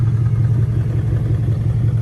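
Low, steady exhaust rumble from a 2002 Lincoln LS V8 with aftermarket tips and deleted mufflers, idling or cruising with a deep, continuous growl and mild clatter, loud and close.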